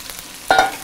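Chopped potatoes drop into beef already frying in a pot, setting off a sudden burst of sizzling after a quiet moment, close and brief.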